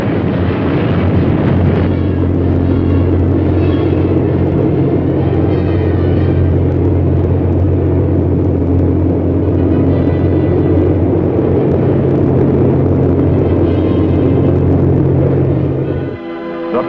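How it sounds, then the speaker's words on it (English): Convair B-36 bomber engines droning in a loud, steady low rumble with sustained tonal hum, continuous and close for most of the stretch before dropping off near the end. "The B-36 proved to be a great airplane, and there was no question as to where it belonged."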